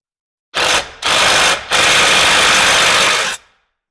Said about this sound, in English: I'm going to grab my impact and tighten this bolt down.